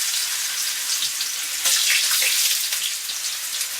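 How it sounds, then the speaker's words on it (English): Slices of potato fry in a pan for a Scottish moussaka, giving a steady close hissing sizzle with small pops and crackles throughout and no voices. "I'll get the first of the potatoes on, just to start them frying off."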